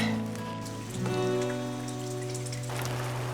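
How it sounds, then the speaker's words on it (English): Steady rain intensifies outdoors on a farm near a cabin, a dense broadband patter of drops on surfaces that swells partway through, with a low continuous hum underneath. "The rain's getting a bit heavier, isn't it?"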